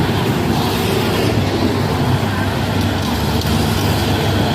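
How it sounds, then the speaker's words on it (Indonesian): A loaded truck that could not make the climb is hauled up the Bukit Kodok hill by a dump truck on a steel cable. Engines roar steadily and loudly, with continuous heavy road rumble throughout. "Truk ini paksa ditarik dari bawah sana ya, dari Bukit Kodok dasar karena tidak kuat nanjak"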